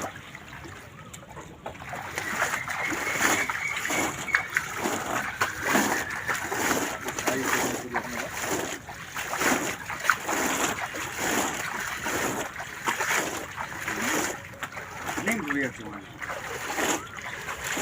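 Fish are released into a large pond during a fishing competition, with repeated splashes and churning water close by, under loud crowd voices and talk throughout.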